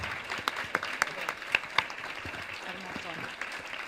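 An audience at a panel discussion claps continuously, moderate and somewhat distant, with scattered sharper claps standing out from the steady patter.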